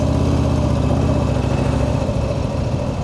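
A steady motorcycle engine idles close by, a continuous low rumble with a faint hum that holds even throughout, with no voices.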